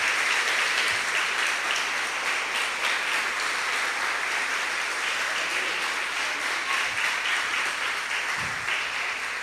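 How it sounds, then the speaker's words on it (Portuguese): A church congregation claps during a sermon in a steady, dense roar of applause that holds at an even level for several seconds, with a low electrical hum beneath it. "Então aplauda ao Senhor."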